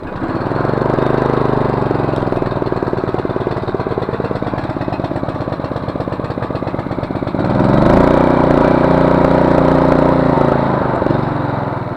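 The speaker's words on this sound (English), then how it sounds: "you want to run the engine at idle for 5 minutes with the blades engaged" Swisher 11.5 horsepower trailing mower engine runs on its own for several seconds with a rapid, steady chug, then settles into a louder, smoother idle, close by with no talking.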